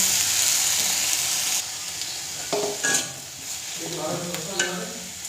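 Tomatoes dry-fry in a pan with no oil, giving a close, crackling sizzle broken by scraping stirs and small clatters. The sizzle is louder at the start and eases after the first second or so.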